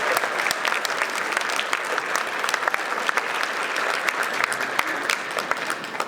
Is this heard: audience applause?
yes